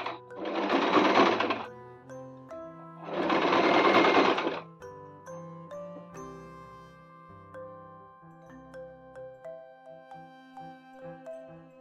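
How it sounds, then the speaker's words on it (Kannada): A sewing machine stitches a thick, cotton-filled frilled blanket in two loud, close bursts of whirring, separated by a short pause, before giving way to tonal background music. "ಇದು ಹತ್ತಿ ಹಾಕಿ ದಪ್ಪ ಇರೋದ್ರಿಂದ ಈ ಮಷಿನ್ನಲ್ಲಿ ಹೊಲ್ಕೋತಾ ಇದ್ದೀನಿ"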